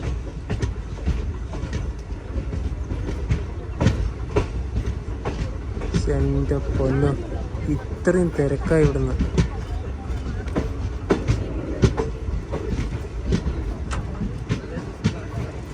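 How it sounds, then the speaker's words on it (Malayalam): Malabar Express train pulling into Nileshwaram railway station in Kerala, a steady low rumble with rhythmic wheel clicks over the rails throughout, while a busy platform crowd chatters and someone talks nearby. "തിരുവനന്തപുരത്ത് നിന്നും 554 കിലോമീറ്റർ യാത്ര ചെയ്തിപ്പിത നീലേശ്വരം റെയിൽവേ സ്റ്റേഷനിലേക്ക് ട്രെയിൻ എത്തിക്കൊണ്ടിരിക്കുകയാണ്"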